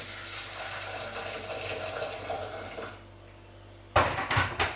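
Metal pot clatters against a surface while water pours and splashes in steadily, followed by a brief pause and a louder rush of water.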